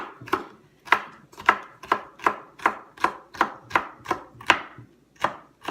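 A kitchen knife finely chops a celery stalk on a cutting board, about fourteen crisp, evenly spaced strokes in a steady rhythm, close and clear with no talking.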